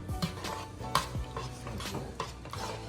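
Butter melting with onions and garlic in a pot for a seafood boil sauce, a soft steady sizzle under repeated utensil scrapes and clinks against the pot, close by, no talking.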